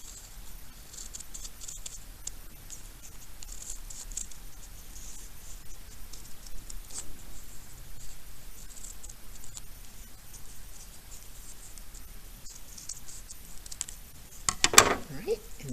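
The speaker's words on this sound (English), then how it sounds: "So I'm going to cut that one there." Scissors snip through folded paper to cut a snowflake, producing faint, soft cuts over a quiet hiss, with a brief louder rustle near the end.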